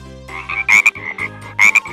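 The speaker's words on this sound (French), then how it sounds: "Le cri, le coassement." A frog croaks loudly and close by in two quick bursts of rasping, pulsed calls, each one a pair of harsh notes, with a low throbbing sound between them.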